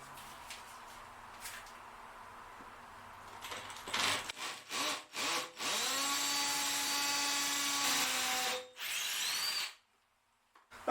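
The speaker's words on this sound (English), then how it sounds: "I'm going to be using my hammer drill, and I'm just going to start it" A hammer drill bores holes for Tapcon screw anchors, starting with scattered clicks and short bursts, then running loud and continuous for several seconds with a rattling, grinding whine before stopping.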